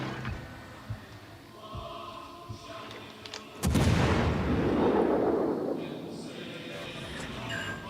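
An armor-piercing shell salvo in the naval video game World of Warships: Legends lands as a sudden heavy boom with a long rumbling tail, after quieter distant thuds.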